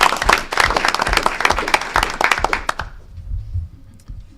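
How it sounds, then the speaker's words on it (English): A room full of people at a district meeting claps enthusiastically for a few seconds, sharp dense hand claps that stop abruptly, leaving a quiet hall. "just one more round of applause for all the efforts you guys put in"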